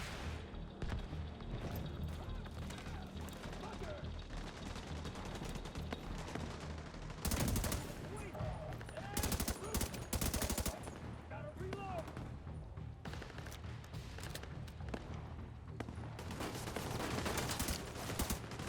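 Gunfire in The Division 2, a cover-based shooter: repeated bursts of shots and sharp cracks over a steady game soundtrack, with heavier volleys clustered through the middle and near the end, while a voice talks over the action.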